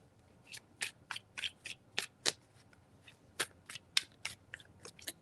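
A deck of tarot cards shuffled close by, a dozen or so quick crisp riffling bursts and flicks in an uneven rhythm, with no talk.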